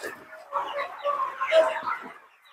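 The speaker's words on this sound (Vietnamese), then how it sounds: "thì em Mạnh đã quay cho mọi người về cái đàn gà nó đang bị hen ORT với cả coryza" A flock of chickens sick with ORT and coryza clucks and murmurs close by, overlapping soft calls rising and falling over a couple of seconds with no talking.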